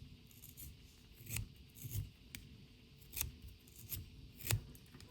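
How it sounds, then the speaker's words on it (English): A thin, ultralight EDC multitool with bent liners gives faint scraping, rasping sounds as it opens, several short gritty scratches spread across a quiet background. "That is now scraping when I open the tool."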